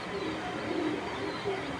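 A racing pigeon cooing softly at close range in a loft, a few low throaty coos over quiet background.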